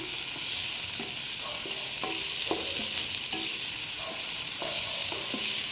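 Vegetables and beans for lumpia are stirred in a hot pan, with a steady sizzle of frying under repeated scraping strokes of the spatula, close and continuous with no voices.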